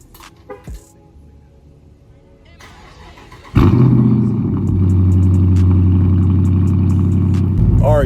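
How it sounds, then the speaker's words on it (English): A Dodge Charger RT cold start: faint clatter at first, then the engine cranks and catches with a loud, sudden roar, settling into a strong, steady idle rumble close by. "I'm gonna give y'all a little cold start of it"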